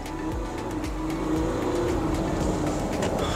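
A 2023 Ford Everest Platinum SUV with a V6 engine accelerating, its steady, loud engine drone rising gradually and continuing without a break from the close interior, with no talking.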